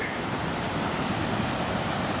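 Wide Abrams Creek in the Great Smoky Mountains flowing at a trail crossing, a steady broadband rushing of water, loud and even throughout with no voices.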